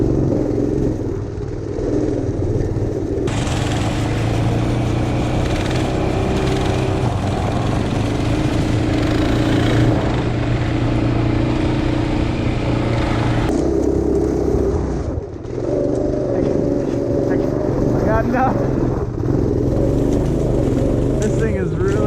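A motorized off-road shopping cart drives through snow, its engine droning loud and steady with shifts in pitch as it revs and strains, while people talk over it.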